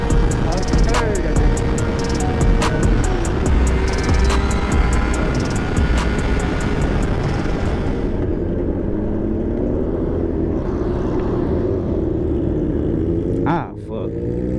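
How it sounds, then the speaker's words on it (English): Motorcycle with straight pipes and muffler deleted, its loud raw exhaust roaring and revving up close, then dropping to a throbbing idle as the throttle eases, with a sharp pop near the end. "the straight pipes actually sound good"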